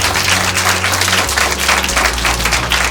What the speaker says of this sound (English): So we got to give him a round of applause for that